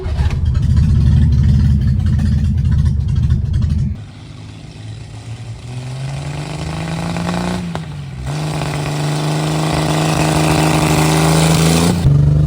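A 1962 Chevrolet Corvair, first started after sitting 40 years, idles roughly and loud up close, then revs and settles into a steadier, rising engine drone with a brief dip near the end.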